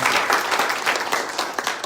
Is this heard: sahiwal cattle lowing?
no